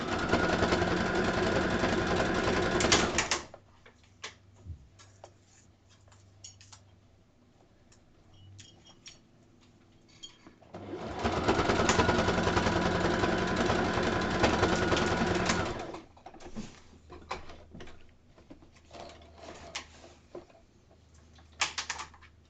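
A sewing machine stitches a seam in two loud, steady whirring runs, the first at the very start and the second in the middle. Quiet ticks and small handling clicks fill the pauses between them.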